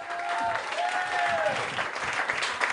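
Applause from a comedy club audience in La Réunion for a comedian, dense clapping throughout, with a couple of voices calling out over it.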